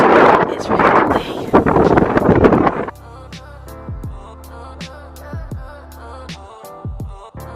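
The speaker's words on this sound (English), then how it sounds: "It's really windy." Strong wind buffets the microphone with loud, gusty roaring for the first three seconds on a volcano in Lanzarote, then eases to lighter, intermittent gusts with scattered knocks and rustles.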